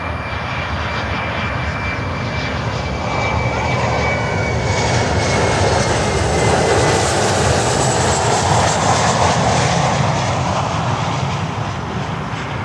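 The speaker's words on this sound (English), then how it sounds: "737-400 coming in" A Boeing 737-400 airliner comes in to land, its engines a loud, continuous roar that swells toward the middle and holds, heard alone at close range.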